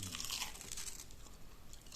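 Paprika rings are bitten and chewed close to the microphone, giving a quiet burst of crisp crunching that softens into fainter chewing.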